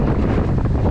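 Strong wind of about 25 knots batters the microphone on a small sailboat far out on the Atlantic Ocean amid three-metre waves, a loud, continuous roaring rush with no pauses.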